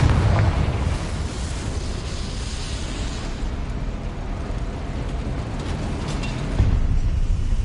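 The Confringo blasting spell explodes in the video game Hogwarts Legacy: a heavy, booming blast starts things off, followed by a long, rumbling roar of debris, and a second thump lands near the end.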